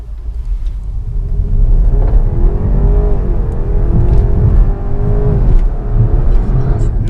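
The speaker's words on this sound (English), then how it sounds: "I'm going to do a 0 to 60 run." A 2019 BMW 530e plug-in hybrid pulls hard from a standstill on a straight road, a steady rising engine and road rumble building through the run with brief gear-change dips, heard from inside the cabin.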